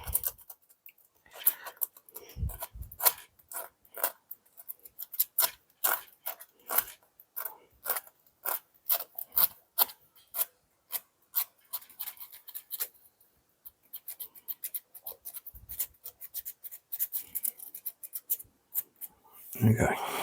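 Rough scraping strokes of 60 grit sandpaper during electric guitar volume and tone pot replacement, a fast irregular run of short rasping passes close up, pausing briefly midway, with no talk over it.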